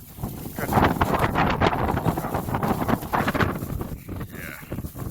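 Blizzard wind in Ames, Iowa, gusts hard straight into the microphone, a loud roaring, buffeting rush that swells and fades over several seconds and eases toward the end.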